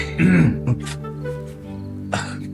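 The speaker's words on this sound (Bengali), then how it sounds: "কাশি হয়েছে নাকি?" A man gives a short, throaty cough and clears his throat, close and loud, followed by a brief second rasp after a pause indoors.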